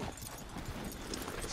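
Horse hooves clip-clop steadily in Red Dead Redemption II, a soft continuous patter of steps heard alone and fairly quiet throughout.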